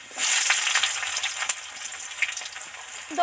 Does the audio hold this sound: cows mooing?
no